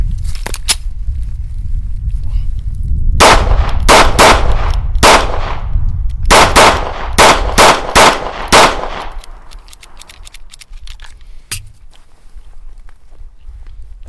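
An SCCY pistol fires in short strings of three to five rounds, each shot a sharp, loud crack in quick succession, then a pause and a second string, with faint shuffling and clicks in between.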